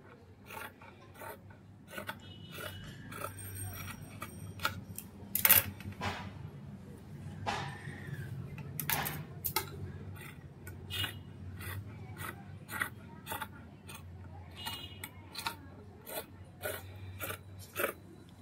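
Scissors trimming extra blouse fabric pieces during cross-cut blouse stitching, heard as a run of quick, crisp snips and soft rubbing close by, with occasional talking in the background.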